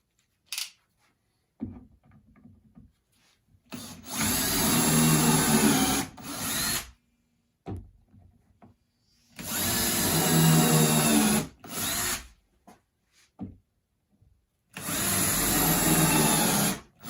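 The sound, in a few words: drill pre-drilling holes in wood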